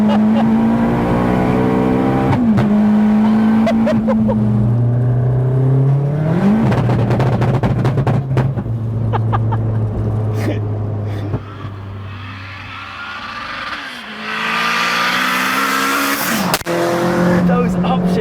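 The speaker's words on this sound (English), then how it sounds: "Those upshift pops were incredible." A big-turbo MK1 Cupra rated over 500 bhp pulls hard at full throttle through several gears, its engine note rising steeply before each upshift with sharp pops and a brief dip, loud and close.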